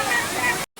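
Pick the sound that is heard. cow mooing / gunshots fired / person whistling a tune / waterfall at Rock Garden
waterfall at Rock Garden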